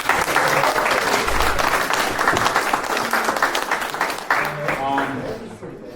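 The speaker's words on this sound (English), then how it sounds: "let's give them a round of applause real quick." An audience at an outdoor campus coding event claps loudly and steadily, with scattered voices mixed into the dense applause.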